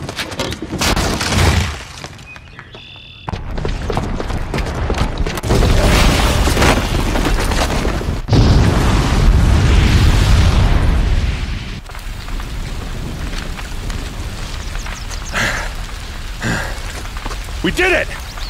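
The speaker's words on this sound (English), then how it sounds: "the booby trap on the bomb downstairs is gonna get set off" A booby-trapped bomb blows up in the game Horizon Zero Dawn with loud, deep booming blasts and crumbling debris, followed by a long rumbling roar that tapers off. Characters' voices come in and out over the noise.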